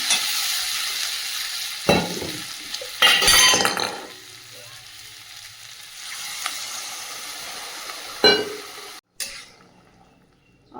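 Water poured onto vegetables sautéed in a pan, loud sizzling bursts near two, three to four and eight seconds, with clinking of a utensil against the pan between them and quieter frying underneath.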